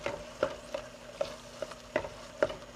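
Spicy chicken pasta sauce stirred in a pan, a soft sizzle under five or six evenly spaced utensil knocks against the pan, close and moderately loud.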